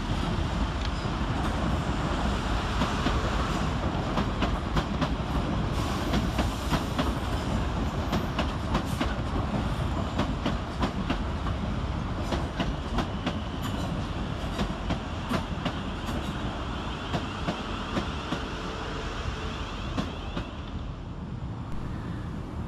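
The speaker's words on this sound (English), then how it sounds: "Next in with the 1928 South Western Railway service from London Waterloo to Reading is 450-119 and 450-094." A pair of South Western Railway Class 450 electric units, 450-119 and 450-094, pulls into Clapham Junction on a Waterloo to Reading service, a sustained loud rumble with rhythmic clicks of wheels over rail joints, easing toward the end.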